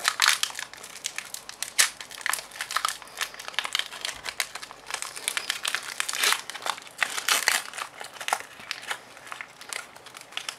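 A Pokemon TCG Evolutions booster pack's foil wrapper crinkles and crackles in close, uneven bursts as it is worked open, with no talk over it.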